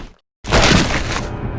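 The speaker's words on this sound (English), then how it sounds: "And that was the sound of a rope breaking." A rope breaks in Resident Evil (2002): a sudden loud snapping burst after a brief silence, then a rough crackling break that fades out, close and alone.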